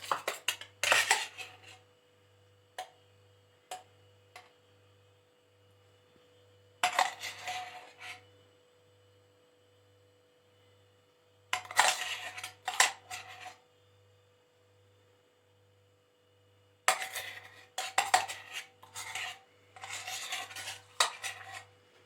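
A spoon stirs coffee and milk for dalgona coffee, scraping and clinking against the cup in intermittent close bursts over a steady low hum, with quiet pauses between rounds of mixing.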